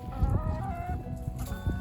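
Hens cluck softly in an outdoor pen, a low continuous murmur of several birds close by with occasional louder clucks, no talking.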